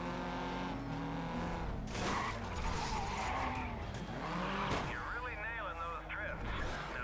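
A car drifts in the GRID racing game, tires squealing in long wavering screeches over a steady engine drone, while a person talks over the driving sounds.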